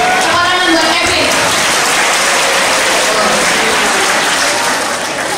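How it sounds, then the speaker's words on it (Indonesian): Audience applause for a boy named Kevin at a school gathering in Cirebon, a steady, dense wash of clapping that fills the whole moment, loud and close, thinning slightly toward the end. "Tepuk tangan buat Kevin"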